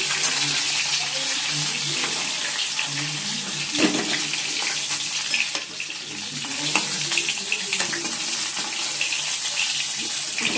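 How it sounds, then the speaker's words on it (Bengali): Water runs steadily from a kitchen tap while a cooking pot is scrubbed clean, with clinks of the metal pot and scraping under the continuous loud rush; the flow stays constant throughout. "চলো, আর হাঁড়িটা মাজবো, মেজে চালটা দিয়ে রাখবো"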